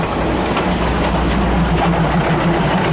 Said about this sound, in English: The train's about to come right through the market.